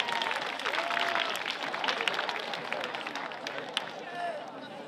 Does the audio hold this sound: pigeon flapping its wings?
no